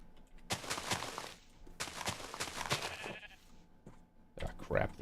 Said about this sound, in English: Ah, crap, the sheep's right here.